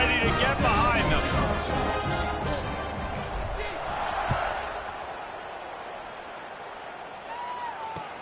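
American football stadium crowd just before a kickoff following an extra point, a steady broad roar and cheering that holds throughout and swells briefly midway, with a commentator talking over it.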